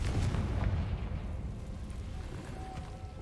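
A fiery Confringo spell explodes in the video game Hogwarts Legacy, a low booming rumble that starts fairly strong and fades into a quieter, lingering roar.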